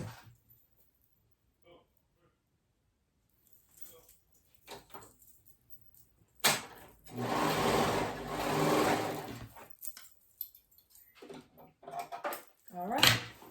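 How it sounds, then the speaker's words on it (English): A sewing machine stitches down the front and around the hood of a knit cardigan in a loud, sustained whirring run of a few seconds, preceded by quiet handling clicks and followed by brief shorter bursts and clatter. "We're gonna sew all the way down one front and then to the other side."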